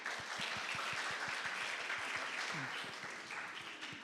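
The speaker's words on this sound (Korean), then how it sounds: "여러분, 교수님께 큰 박수 부탁드립니다." A conference audience claps for a professor's data-education presentation, a steady, fairly soft patter of many hands heard from a distance, with a brief voice partway through.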